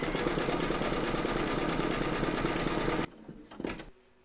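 An embroidery sewing machine stitches an applique with a fast, steady mechanical whirr and rapid needle rhythm, close and continuous, then abruptly stops and leaves a few faint clicks and handling sounds.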